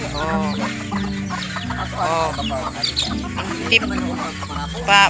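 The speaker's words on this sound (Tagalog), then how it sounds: "Patuka sa manok." A flock of chickens clucks and chatters continuously nearby, with overlapping calls and a brief louder sound at the very end.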